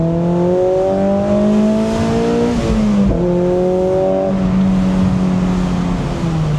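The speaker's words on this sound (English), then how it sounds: "it sounds good with the exhaust" Mazda Miata engine and exhaust revving steadily, the tone climbing and dipping through the rev range, loud and close with no talk over it.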